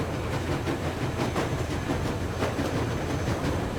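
A train rolls along a railroad in the video game Metro Exodus. A steady, loud rumble carries rhythmic clickety-clack wheel beats throughout, with no voices.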